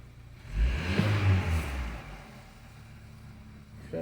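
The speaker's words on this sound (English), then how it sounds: "we'll be able to do the quick rev to see if there's a difference" A BMW X3 engine with no-start and power problems, idling and then given one quick rev that swells for about a second and settles back to a steady idle hum, heard up close.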